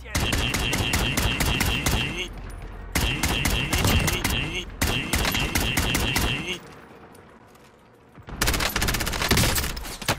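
Automatic weapon fire in Warzone, long rattling bursts of rapid shots broken by short pauses, loud and close, with a quieter stretch before a final burst and a voice speaking faintly underneath.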